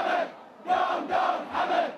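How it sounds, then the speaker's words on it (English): A protest crowd outside Salmania hospital chants in loud, rhythmic bursts, four swelling shouts in quick succession from many voices together. "Outside the Salmania hospital, crowds began to grow."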